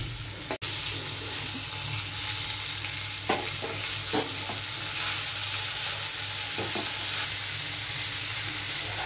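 Dheki fern greens with chopped tomato and turmeric being stir-fried in a pan, a steady broad hiss with a few scattered spatula scrapes and knocks and one sharp click early on.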